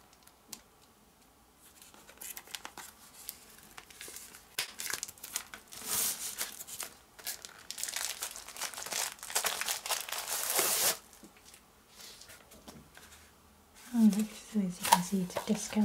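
Plastic wrap being pulled off a BTS photobook, with close crinkling and tearing in uneven bursts that grow louder midway, and a voice speaking toward the end.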